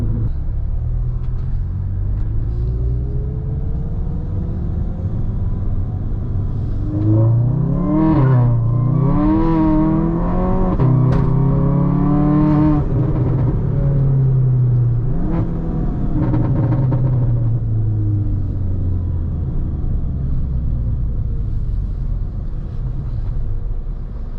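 A Volkswagen MK6 GLI accelerates hard while struggling for traction, its engine droning loudly with rising and dipping revs that waver through the middle as the wheels hunt for grip, heard steadily from nearby.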